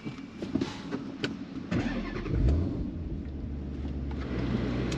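A 2012 Dodge Challenger SRT8 392 with a six-speed manual pulls away, its engine rumbling up from low revs into a steady, close, loud drone with some clunks early on; no talking.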